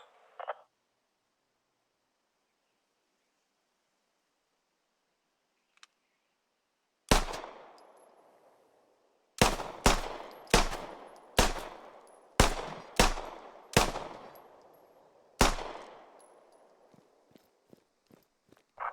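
Pistol sidearm fire in the military shooter game Squad: after near silence, a string of about ten sharp, loud single shots at uneven intervals, each with a short echoing tail, then fainter trailing pops.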